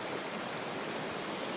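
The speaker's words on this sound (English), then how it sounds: "Here's our little Missouri water crossing." A stream at a Missouri water crossing rushes steadily nearby, a dense broadband wash of flowing water with no break and no voices.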